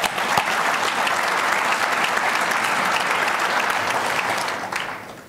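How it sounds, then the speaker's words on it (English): An audience at a business awards event applauds Dan, a dense, steady burst of many hands clapping at strong volume that holds for several seconds before tapering off at the end. "Round of applause for Dan, please."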